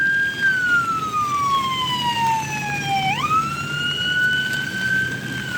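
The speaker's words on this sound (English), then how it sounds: "Now I hear sirens." Loud emergency vehicle sirens wail outside, one long tone sliding slowly downward and then sweeping back up, steady and close, with no voices.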